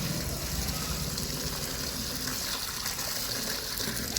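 Water runs in a steady gushing stream for watering plants in a village home, a continuous close splash with no talking.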